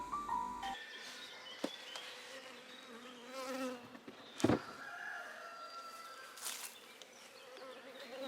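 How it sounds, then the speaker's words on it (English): Honey bees buzz steadily around an open beehive during an inspection, a close, continuous drone with occasional louder passes and brief knocks, with no speech. "the half of the frame were covered with bees"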